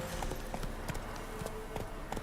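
Roach, the horse in The Witcher 3, gallops with quick rhythmic hoofbeats clopping close and steady over a continuous outdoor ambience.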